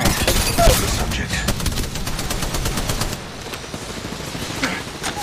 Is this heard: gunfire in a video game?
yes